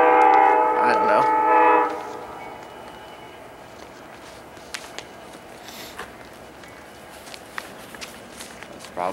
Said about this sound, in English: That's probably the train.